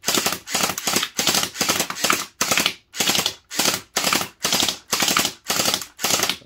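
An HT Mini M4 Raptor gel blaster fires about a dozen sharp, evenly spaced bursts in a steady rhythm, each a loud snappy crack with a brief whir, close to the listener with no talking.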